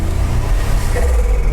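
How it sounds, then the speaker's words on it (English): A 1987 Buick Grand National's turbocharged engine rumbles close and loud in a short low burst, its deep drone swelling briefly as the car pulls away outdoors. "Listen to that turbo."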